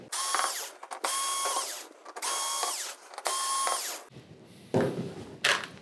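A power drill backs screws out of the power supply board in a TCL 55R625 television, several loud whirring bursts of about a second each separated by short gaps, followed by lighter clattering handling noise, close up with no talking.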